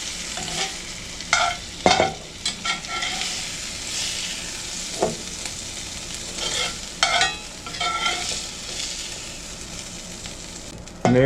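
Onions for steak and cheese hoagies fry on a hot surface with a continuous crackling sizzle, broken by irregular scrapes and clacks of a spatula turning them; no talking.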